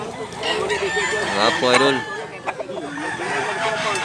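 Black-leg roosters and chickens at a market in Mantalungon, Southern Cebu, crow and cluck loudly nearby, crows rising and overlapping the clucks, while someone talks briefly over them.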